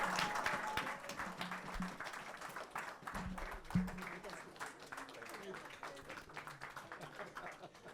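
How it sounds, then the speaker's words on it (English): A crowd gives a standing ovation for cricketer Mohinder Amarnath at the launch of his book Fearless: dense clapping that swells, then gradually thins, with murmured voices and some background sound mixed in. "Ladies and gentlemen, can we have a standing applause for Mohinder Amarnath?"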